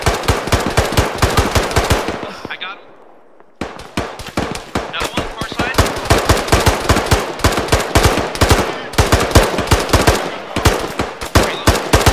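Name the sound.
machine gun fire in the video game Arma 3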